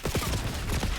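Several rapid pistol shots from a Grekhova pistol in a video game crack out in quick succession, loud and close, with no talking over them.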